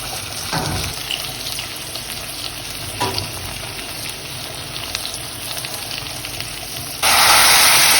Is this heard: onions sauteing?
yes